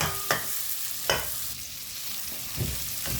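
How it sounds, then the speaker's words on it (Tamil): Cashews and raisins frying in a pan for rava laddu hiss in a gentle continuous sizzle, with three sharp scraping stirs of a spoon against the pan, close and quiet. "ப்ளம்ஸும் காஜுவும் நல்லா பொரிந்து வரட்டும்"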